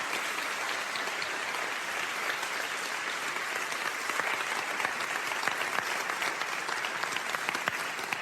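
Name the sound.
audience applauding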